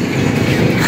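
A motorized tricycle arrives with a close, loud, steady engine rumble lasting under a second.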